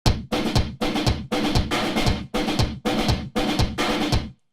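Gypsy percussion run through a harsh gate with distortion and saturation: eight abrupt, chopped bursts of gritty, crunchy noise in a steady pulse, each cut off sharply into silence, loud and upfront.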